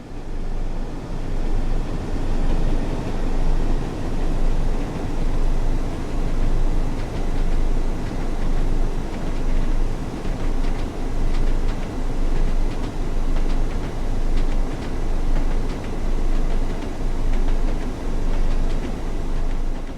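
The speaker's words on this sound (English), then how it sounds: "This Class 101 diesel mechanical multiple unit features a geared transmission" A Class 101 diesel mechanical multiple unit train in Train Sim World runs steadily, its constant rumbling drone and faint rhythmic clicks continuing without break and with no voices.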